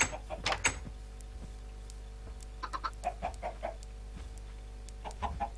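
Chickens cluck in short bursts in the video game Minecraft, a louder flurry at the start and then scattered clucks, set against a steady low electronic hum.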